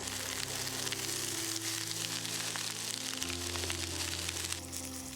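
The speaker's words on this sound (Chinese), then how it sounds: "倒入芋头， 中火不断翻炒大约5分钟。" Taro chunks stir-fried over medium heat in a wok make a continuous, moderately loud sizzle with faint scraping and tossing noises running through it.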